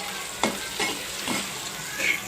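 Corn kernels fry and puff in hot oil for a crispy snack, giving a loud, close, steady sizzle with occasional stirring scrapes and pops.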